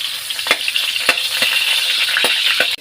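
Cooking oil sizzles steadily in a pan for Bicol pancit bato, a bright continuous hiss broken by a few sharp clicks of a utensil against the pan.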